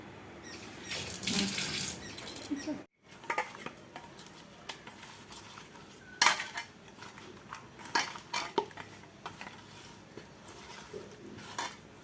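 Dishes being washed in a kitchen sink under running tap water, with clinks of utensils and pots, a brief pause, then splashing and clattering continuing near and alone.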